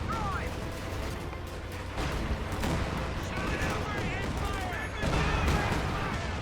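Repeated gunfire from a support gun in Company of Heroes 2, sounding as rapid bursts and scattered cracks mixed with the general din of battle throughout, with a louder stretch near the end.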